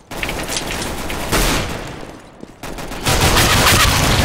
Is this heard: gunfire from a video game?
yes